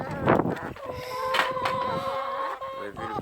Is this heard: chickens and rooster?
yes